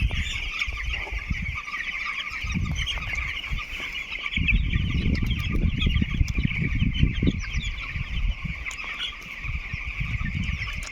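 Thousands of young chicks on a free-range chicken farm, a dense continuous chorus of high peeping and chirping with occasional clucks and wing flutters, a low rumble underneath, no talk.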